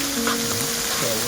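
Burger patties sizzling loudly on a Blackstone griddle while being smashed, a steady dense hiss with faint scraping underneath, continuous and close.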